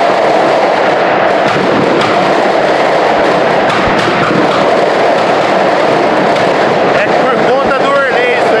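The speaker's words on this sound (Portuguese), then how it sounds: "Os rojões estão estralando." Firecracker rockets pop and crackle at a football match, a dense barrage of sharp bangs heard under a loud crowd roar and a commentator's voice.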